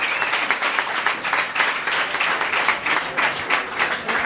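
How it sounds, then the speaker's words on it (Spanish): An audience at a Pint of Science talk on beer chemistry gives the volunteers sustained applause, a steady crackle of many hands clapping at close range with no talk over it. "un aplauso muy fuerte para los voluntarios"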